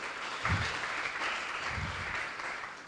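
An audience at a university psychology department event applauds, a close, steady burst of clapping that holds for several seconds.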